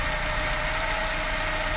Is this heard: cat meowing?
no